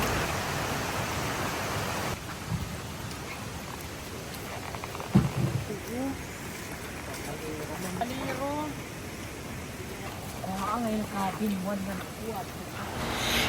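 Heavy typhoon rain and rising floodwater make a steady, dense wash of noise at a nature spring, with a voice talking over it throughout.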